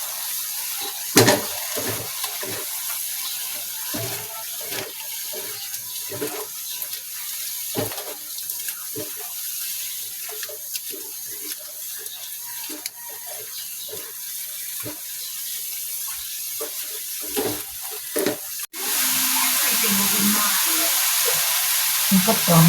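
Pork sizzles as it fries in a pan for adobong talong, with a steady hiss broken by repeated scraping and stirring strokes. A louder, rushing burst of sizzle comes near the end.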